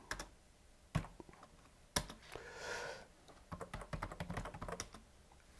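Fingers tap out a command on a computer keyboard in quick bursts of close, crisp key clicks, with a couple of sharper keystrokes standing apart from the flurries.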